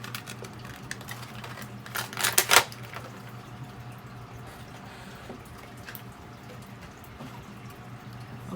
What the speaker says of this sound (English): So popping out the plastic.